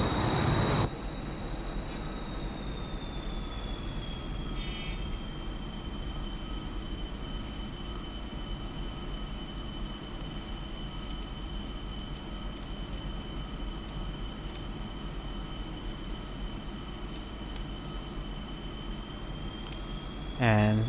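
A JF-17 Thunder jet sits on the ground during a cold start in a flight simulator. Its engine gives a steady, fairly loud whine over a low rumble, with a sharp thump at the start and end.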